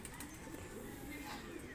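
Pigeons coo softly in the background amid steady outdoor noise as birds feed on the ground, with faint voices nearby.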